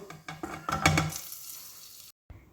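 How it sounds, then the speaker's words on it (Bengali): Grated papaya hits hot oil on a high flame, with a few scraping stirs and a close sizzle that softens before a sudden break. "এই পেঁপেগুলোকে আমি এক থেকে দুই মিনিটের জন্য হাই ফ্লেমে একটু ভেজে নেব"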